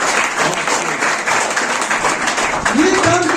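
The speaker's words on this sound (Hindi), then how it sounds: "अब इसके लिए एक बार और तालियां बजनी चाहिए।" Audience clapping at a student gathering, a dense continuous patter of many hands, with a voice speaking briefly near the end.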